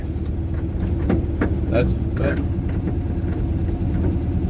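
A 1976 Volkswagen Bay Window single-cab pickup engine runs steadily and close, with faint clunks from the gearbox as the driver hunts for a gear, and a brief spoken word over it.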